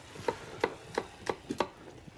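A knife chops an apple on a cutting board for a pork chop dish, giving five or six crisp, evenly spaced thuds at a moderate pace, close and clear with no talking.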